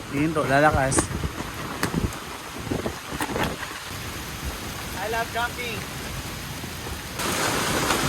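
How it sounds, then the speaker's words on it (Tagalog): Heavy typhoon rain from Bagyong Nando pours during solo car camping at Camp Sitio Tangal in Palauig, Zambales, a dense steady hiss that swells as gusts hit, with someone talking over it. "Grabe lakas ng ulan."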